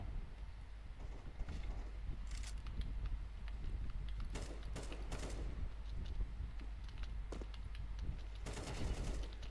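Bursts of gunfire crackle in Counter-Strike 2, several sharp volleys spread across the clip over a steady low background hum, moderately quiet overall.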